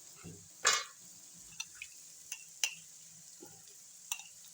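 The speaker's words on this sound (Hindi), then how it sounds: "अब हम डालेंगे अदरक लहसुन का पेस्ट।" Ginger garlic paste fries in a wide-bottomed pan while a spoon stirs it, giving a soft sizzle broken by scattered scrapes and metallic clinks, close and fairly quiet.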